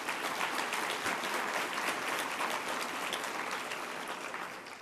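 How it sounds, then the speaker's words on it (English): A seated audience gives a steady round of applause at an executive awards event, dense clapping sustained throughout and fading slightly toward the end. "Give them a round of applause, please."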